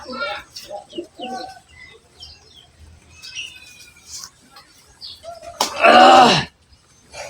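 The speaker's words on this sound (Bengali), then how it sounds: "কবুতর আসো আসো" Pet pigeons being fed give soft, scattered coos and chirps, with a burst of wing flapping near the end, while a person talks and calls to them throughout.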